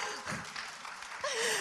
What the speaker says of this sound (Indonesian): Boleh minta tepuk tangannya dulu?